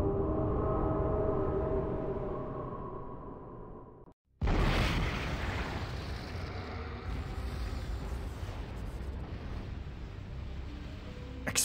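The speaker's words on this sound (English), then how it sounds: "Explosions?" Explosions in the video game Zork Nemesis: a loud sustained blast with a roaring, rumbling tail that fills the clip after a tonal, humming stretch and a brief silence.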